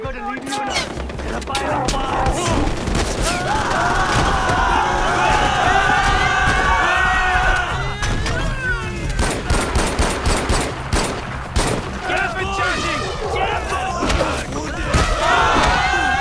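Gunfire in the video game Far Cry 4 on a custom elephant bowling map: sustained dense automatic bursts and scattered shots, loud and continuous, mixed with game shouting and crowd-like noise throughout.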